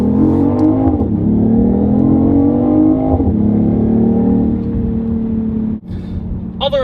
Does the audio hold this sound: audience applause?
no